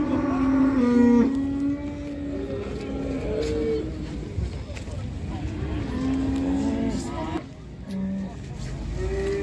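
A cow moos at a busy livestock market, long low calls rising above a crowd of voices and vehicle noise, with several moos spread through the clip.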